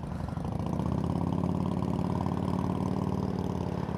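A Harley-Davidson motorcycle engine idles nearby with a steady, low, throbbing rumble that holds even and loud throughout.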